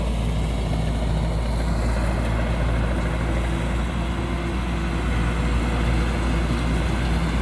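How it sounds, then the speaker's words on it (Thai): A combine harvester from a Thai workshop, over ten years old, runs its engine hard at full throttle while harvesting a rice field, a steady loud low drone throughout with no talk. "จะเร่งเครื่องเต็มที่เลยแน่นอน"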